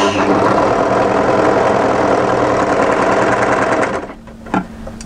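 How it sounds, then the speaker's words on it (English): A three-thread overlocker runs at a steady, loud, fast whir while sewing the narrow edge of a fabric piece for a camisole top, then slows and stops near the end. "we're going to overlock this narrow edge here with a three thread overlock"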